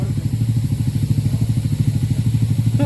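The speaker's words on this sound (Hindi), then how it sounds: "दोनों बाइकें बिल्कुल सिंगल सेल्फ पे चालू हुई है भाई साहब" Two motorbikes idle steadily after a self-start on a freezing winter morning at minus 13 degrees in the Himalayas, a close, loud, even engine thump with a regular rapid pulse and no talk.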